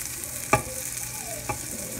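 Sausages frying in a pan for breakfast give a steady close sizzle, broken by two sharp clacks from a utensil or pan at about half a second and again near one and a half seconds.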